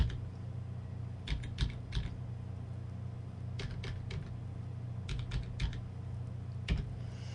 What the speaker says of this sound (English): So let's go ahead and type in